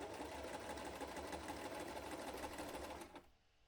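A sewing machine stitches painted fabric for a 1/12-scale wrestling figure suit with a steady, fast, close mechanical whirr and clatter, then stops abruptly near the end.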